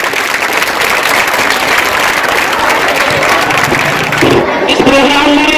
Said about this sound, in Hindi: आपकी तालियां आनी चाहिए बहुत जोरदार।